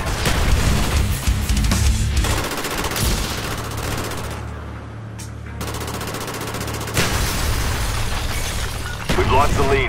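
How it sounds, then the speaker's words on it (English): Frag grenade going off in Call of Duty: Black Ops amid heavy firefight: constant loud rifle and machine-gun fire, a booming blast with a lull after it, then shooting resumes, with voice callouts mixed in. "Throwing frag!"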